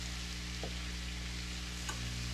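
Garlic frying in melted butter in a pan, a steady soft sizzle and crackle throughout, quiet and close, with faint clicks of stirring and no one speaking.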